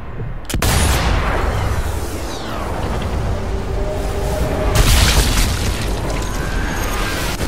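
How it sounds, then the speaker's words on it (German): A sharp, loud video game explosion blast in Sniper Elite V2 Remastered erupts at the start and is followed by a long rumbling roar, with a second booming burst swelling a few seconds later. "Warten gleich auf die nächste Explosion."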